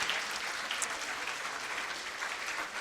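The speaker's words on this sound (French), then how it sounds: "je pense que l'animation vaut une bonne main d'applaudissements." Audience applause honoring an animation segment on a French-language talk show, steady and dense clapping filling the room throughout, with no voices on top.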